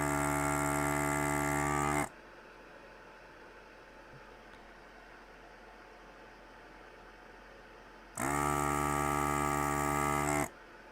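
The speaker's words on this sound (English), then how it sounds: "I am removing the solder from the vias on the unpopulated FPU location" A desoldering tool on a Macintosh LC II logic board cuts in twice, a loud steady electric whir near the mic running about two seconds each time, separated by quiet background hiss.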